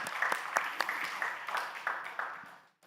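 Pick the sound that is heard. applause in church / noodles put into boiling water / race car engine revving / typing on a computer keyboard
applause in church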